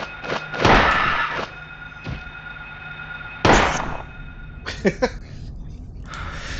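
Pistol shots in the PS1 video game Silent Hill, several sharp, loud single reports spaced a few seconds apart, with quieter thumps and a steady background hum between them.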